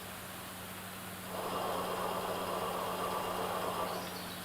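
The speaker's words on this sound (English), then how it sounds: "spin this generator and make it act like a motor" A Ford 8N tractor generator, spun as a motor, whirs into a steady, soft hum partway through, sitting over a low background drone and holding even until it eases off near the end.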